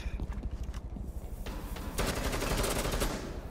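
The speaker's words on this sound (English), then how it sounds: "IQ still shooting, like, equipment from the ground floor." Rapid automatic gunfire from the video game Rainbow Six Siege, a dense run of close, loud shots with heavier bursts near the end.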